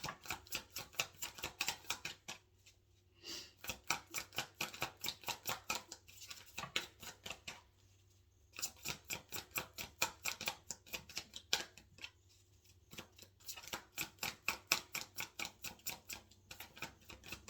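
A deck of tarot cards being shuffled by hand, heard as repeated bursts of rapid, crisp riffling clicks separated by short pauses, fairly quiet and close with no voices over it.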